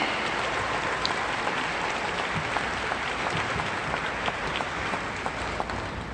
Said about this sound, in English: One more round of applause for that solo